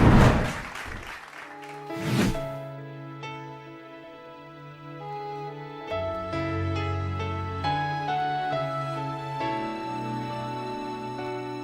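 An audience claps in a burst of applause that lasts about two seconds and fades quickly. Sustained music with clear tones then follows and fills the rest.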